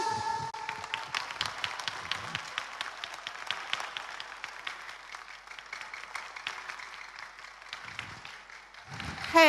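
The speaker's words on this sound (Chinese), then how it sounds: "来，让我听听您的掌声" A concert audience at a charity night of 70s–90s pop songs applauds steadily, a dense wash of clapping lasting throughout, with a brief voice rising near the end.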